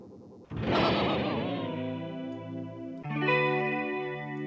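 A synthesized tone run through Ableton's Chorus (Legacy) effect, its harmonics wavering and sweeping with modulation; one sustained note fades, then a second loud note enters at about three seconds, with no talking.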